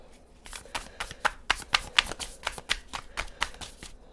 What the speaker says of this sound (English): so you're just going to have to give me one more round of shuffles